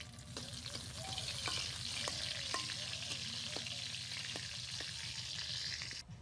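Panch phoron and dried chillies frying in oil in a kadai, a soft steady sizzle with sharp popping crackles and spatula stirring, quiet but close, without any talking.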